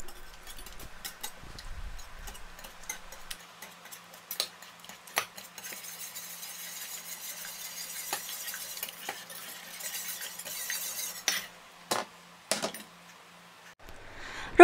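Butter melting in a pan while a utensil stirs it, producing sparse close clinks and scrapes against the pan over a faint, quiet background.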